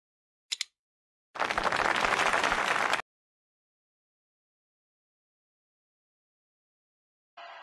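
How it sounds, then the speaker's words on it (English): Crowd applause in a ski jumping video game, a single dense burst of cheering and clapping lasting under two seconds, set between a short blip and near silence, with a brief fainter swell at the end. "The crowd is getting excited."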